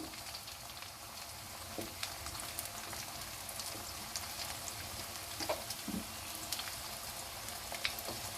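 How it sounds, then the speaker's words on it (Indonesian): Steady oil sizzle and crackle of martabak frying in a pan with a little oil, continuous and close, with occasional small pops and no talking. "Kita goreng hingga matang ya."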